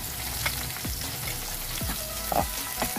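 Onions sizzling in a hot pan with garlic for chicken sisig, a continuous close sizzle broken by a few sharp scrapes and taps of a spatula against the pan, with no talking.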